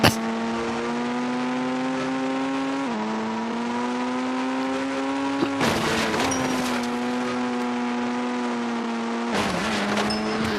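Engine drone of a vehicle driven in the game Indian Bike Driving 3D, a loud steady tonal hum that dips and rises with gear changes and bursts of acceleration, with no talk over it.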